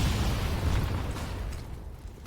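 Grenade blasts from a Counter-Strike match: a dense, low rumbling boom that fills the opening second and then tails off over roughly two seconds, with no voices over it.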